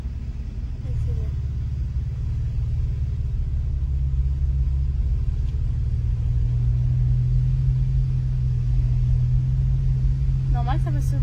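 Car engine during a driving lesson, a steady low rumble that deepens and strengthens as the learner presses the accelerator gently, heard from inside the cabin with an instructor's voice intermittently over it.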